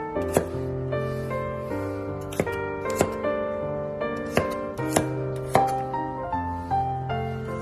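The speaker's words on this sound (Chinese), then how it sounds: "将大蒜切成粒" Garlic chopped into small pieces with a knife on a board, a series of crisp, irregular knife strikes close up, some quick and clustered, others spaced apart, with no talk.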